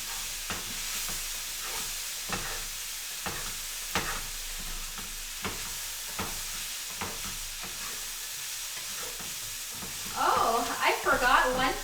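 Onions browning in a pan on low heat, a soft continuous sizzle with repeated scraping stirs. A louder burst of frying comes near the end, and a person talks now and then.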